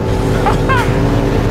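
An Indian FTR 1200 R Carbon motorcycle engine drones loud and steady while riding at speed, with a short voice cutting in over it.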